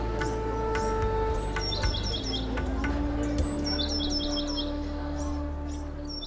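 Parrot and myna birds chattering beneath a kadam tree, with repeated bright chirps and warbling calls in quick clusters over a steady low background hum.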